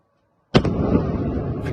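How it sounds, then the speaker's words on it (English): Explosion from a drone attack on a Black Sea oil terminal, a sudden heavy blast after silence followed by a sustained rumbling roar and debris crackle, with a second burst near the end. "Massive explosion in the distance there."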